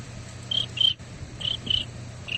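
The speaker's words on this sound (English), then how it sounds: "Crickets!" Crickets chirp in short, bright bursts that repeat at a steady pace over a low background hum, clear and moderately close, with no talking.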